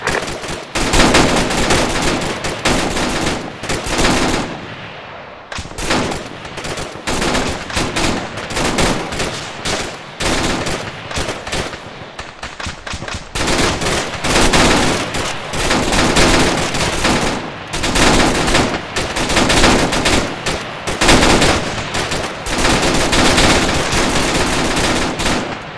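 Loud, dense automatic gunfire from the ArmA 3 video game rattles almost continuously in long bursts, with a couple of brief pauses and overlapping shots.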